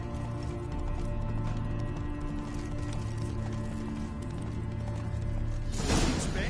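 Horse hooves clip-clopping at a steady pace in The Witcher 3, a continuous rhythmic trot over a droning ambient game score, with a louder burst of noise near the end.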